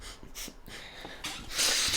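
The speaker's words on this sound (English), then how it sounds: "Big sniff." A big, breathy sniff and some snorting through the nose, close and short, with a louder rushing inhale near the end.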